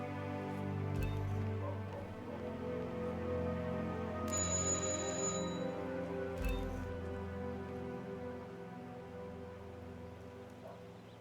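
A doorbell in the stealth game Hitman 2 rings once as a bright, sustained chime lasting under two seconds, set against faint ambient background noise.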